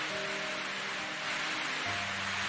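Heavy rain pours down at night in a cartoon scene, a steady broad hiss filling the whole short stretch with a faint low hum beneath, no voices.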